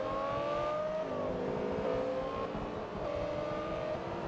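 A Porsche Carrera engine revs and pulls through gears in the racing game Forza Motorsport 2, a steady, loud whining drone with rising pitch sweeps and brief dips at shifts, no voices.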